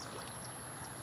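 Strong floodwater rushes past in a steady, unbroken wash of noise, fairly faint and even, with no voices.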